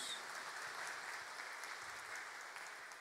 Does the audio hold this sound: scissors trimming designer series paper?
no